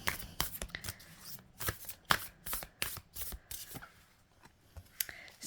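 Tarot cards being shuffled in quick, uneven riffling bursts, close and fairly quiet, with short pauses between flurries.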